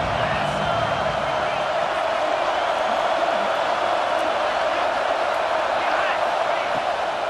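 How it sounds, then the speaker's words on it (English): A football stadium crowd in a video game roars as a steady, loud wash of noise that holds throughout, with faint whoops and cheers on third down. "Decibels rising as the crowd gets behind this defense on third down."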